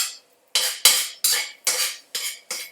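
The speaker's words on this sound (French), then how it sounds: "je racle autour de ma casserole" Spatula scraping around a saucepan of barely set scrambled eggs on the stove, six sharp rasping strokes, close and loud, with short pauses between them.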